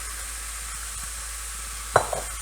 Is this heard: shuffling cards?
no